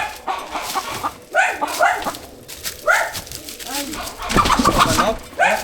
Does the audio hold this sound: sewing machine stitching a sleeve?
no